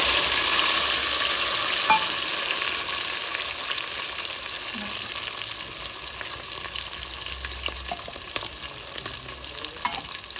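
Eggs and tomatoes frying in a home pan, a steady hiss of sizzling oil with faint stirring scrapes and occasional small clicks, fairly close and continuous with no voices.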